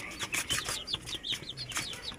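Young chicks peep in quick, high-pitched chirps, several overlapping calls close by in a rapid, uneven rhythm with no voices.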